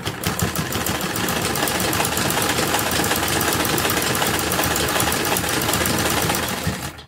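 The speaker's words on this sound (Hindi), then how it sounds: "दूसरी तरफ भी हम इस तरह से सिलाई लगा लेंगे।" A sewing machine stitching along a sleeve edge, running in one steady, rapid rattling burst for several seconds close by, then stopping.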